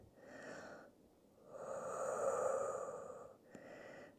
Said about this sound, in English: And just take a couple of deep breaths.